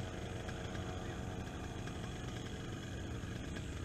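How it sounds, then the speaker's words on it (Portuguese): A two-stroke paratrike engine runs steadily with a continuous broadband drone and buzzing vibration, heard at a moderate distance at low level without pauses. "E esse motor é dois tempos."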